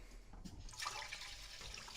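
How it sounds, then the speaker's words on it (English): Hot water running from a kitchen tap for dishwashing, a brief, soft rush of flowing water heard on its own. "Turn the hot water on."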